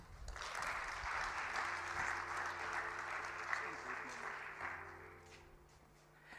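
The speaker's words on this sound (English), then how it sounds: "That applause was certainly not powered by green hydrogen." Audience at a budget review dinner session applauding after a speech, sustained clapping from a room full of guests that holds steady before tapering off near the end, with a voice faintly audible underneath.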